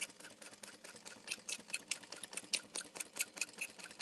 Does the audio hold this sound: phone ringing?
no